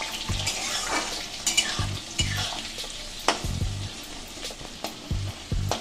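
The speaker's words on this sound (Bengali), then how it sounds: "পেঁয়াজটাকে আমি হালকা ভেজে নেব।" Chopped onions frying lightly in spiced oil in a pan for Bengali chicken jhol, a close, steady sizzle punctuated by repeated spatula clinks and scrapes as they are stirred.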